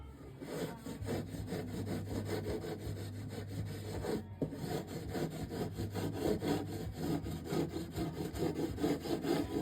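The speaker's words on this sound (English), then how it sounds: "I burnish it basically by rolling the wood fibers over on each other" Steady rubbing and rasping of a tool burnished back and forth along a closed wood miter seam on a lock miter corner trim joint, continuous and close, with no voices.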